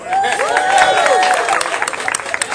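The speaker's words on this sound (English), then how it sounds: "Clap for that." An audience claps and cheers, with scattered voices and whoops mixed into a sustained round of applause that gradually thins out.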